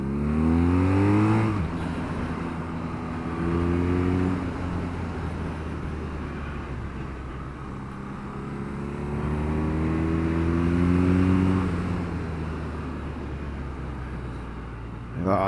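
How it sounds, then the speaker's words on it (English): A BMW R9T motorcycle pulls away in second gear, its engine note climbing through two rising acceleration sweeps with a gear change between, heard from the rider's position with wind noise. "Second gear pickup."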